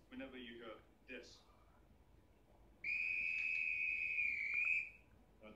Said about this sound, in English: the next time you hear this whistle